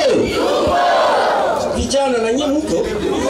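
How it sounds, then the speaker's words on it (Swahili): Rally crowd ululating and cheering together in a loud, sustained wave of high trilling voices and shouts, close and continuous throughout. "Mupigie viongozi vigelegele."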